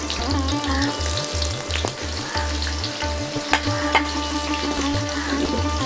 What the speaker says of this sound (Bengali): পেঁয়াজটার কাঁচা গন্ধ যাওয়ার আগ পর্যন্ত একটু ভেজে নেব।